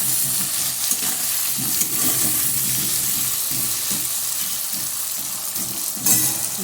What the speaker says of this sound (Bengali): একটু কমিয়ে দিয়ে ভাজি।